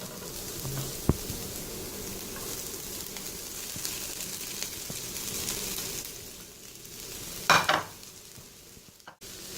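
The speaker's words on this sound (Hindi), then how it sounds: "अब हम इसमें अपना चिकन ऐड कर लेंगे" Chicken stir-frying with capsicum and chillies gives a steady, moderate sizzle with occasional stirring scrapes, then a brief louder clatter near the end before it quiets.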